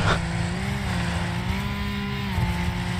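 Engine of a rally-style car in the Wreckfest racing game, held at high revs under hard acceleration, a loud steady drone with a slowly shifting pitch and no talking.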